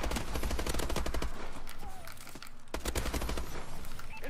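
Rapid automatic gunfire in the video game Advanced Warfare, loud bursts of closely spaced shots that stop briefly midway and then resume.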